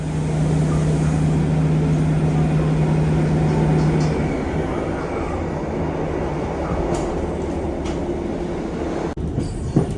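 A train rumbles steadily along the rails through Exeter Central station, loud and close, with a faint metallic squeal of wheels partway through.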